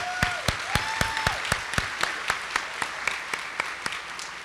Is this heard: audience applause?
yes